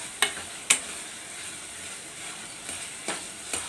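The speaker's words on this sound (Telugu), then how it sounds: "అందువల్లే అల్లం వెల్లుల్లి అనేది పచ్చివాసన పోయే వరకు వేయించుకుంటూ ఉండాలి" Ginger garlic paste sizzles steadily in a pan while a utensil scrapes it around, giving several sharp clicks over a continuous frying hiss, with no talking.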